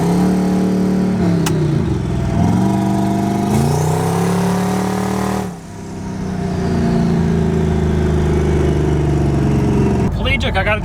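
A twin-turbo Chevrolet Malibu engine revs hard, its pitch climbing and dropping through repeated loud pulls as turbo boost builds, with excited voices shouting over the roar inside the car.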